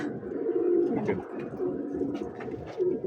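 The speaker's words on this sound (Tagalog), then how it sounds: "Ganda ng mga kalapati ni Kabayan dito" Pigeons in a small loft coo steadily in low, throaty, rolling calls, several birds overlapping nearby, with faint wing flutters and rustling around them.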